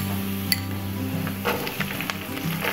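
Fresh ginger, about two tablespoons, sizzling softly in a hot pan while a spoon scrapes and clinks against the metal in a few light strokes; faint and close, with no voices.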